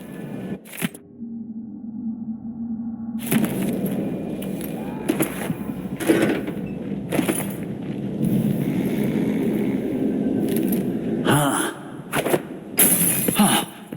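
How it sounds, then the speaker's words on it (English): Glass shattering in the stealth video game Dishonored 2, set in Dunwall: a sharp crash followed by scattered crunches and clinks over ambient game noise, fairly close and loud. "That sounded like broken glass."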